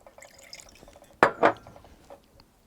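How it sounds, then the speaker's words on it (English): Water splashes and swirls as a wine glass is rinsed out, with small drips and trickles around two louder sloshing bursts near the middle, close by and quiet overall. "wash the glass out"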